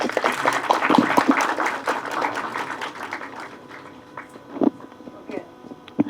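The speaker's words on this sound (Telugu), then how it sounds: "క్లాప్." An audience bursts into brisk applause at a Telugu film event, dense clapping that fades over a few seconds while voices talk over it, followed by a few scattered claps.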